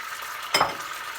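Water splashed into a hot frying pan while cooking Thai chu chee curry with fried striped catfish, giving one sudden loud hiss that quickly settles into a steady sizzle.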